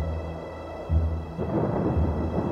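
Thunder rumbles with rain falling steadily in a stormy sound effect for a narrated children's story about dark clouds bursting open, a deep roll swelling about a second in and again later, no voices.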